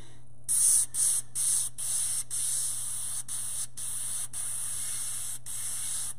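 An airbrush sprays paint for a chrome-effect chain in a series of close hissing bursts, each broken by short pauses, before one longer continuous spray; a low steady hum runs underneath.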